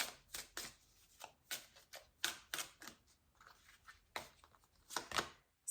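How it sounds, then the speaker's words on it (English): A Prism Oracle card deck is shuffled by hand nearby, making soft, quiet riffles and slaps in uneven bursts with short pauses and no speech. "we're going to get 6 of these Prism Oracle cards."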